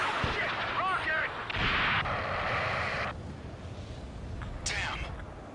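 Rocket fire and explosions in a video game: loud, booming blasts and crackling bursts follow one another over a dense battle roar, with a voice briefly present.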